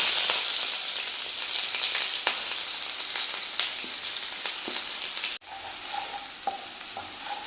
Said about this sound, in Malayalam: ഞാൻ സവാള ചേർത്ത് കൊടുക്കാം